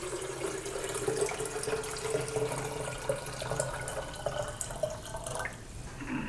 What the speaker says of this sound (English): just add water in the pot